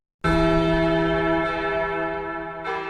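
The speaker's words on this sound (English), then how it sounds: "A deep, solemn toll disturbed my pondering. A church bell somewhere beyond the fog of London." A deep church bell in foggy London strikes once, loud and close, its rich metallic hum sustaining and slowly fading, then a second stroke begins at the end.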